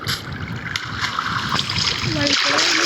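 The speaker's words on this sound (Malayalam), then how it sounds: "നമുക്ക് വെള്ളത്തിലിറങ്ങി ഈ ഫിഷുകളെ ഒന്ന് പിടിക്കാം" Splashing as a Minecraft character wades into water to catch fish, a steady watery wash with a few brighter splashes near the end, constantly under background game music and noise.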